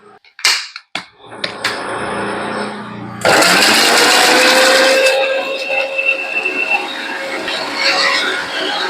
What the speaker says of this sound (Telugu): స్ట్రాబెర్రీస్, పన్నీర్ అండ్ కొంచెం హనీ వేసి నేను మిక్సీ చేస్తున్నా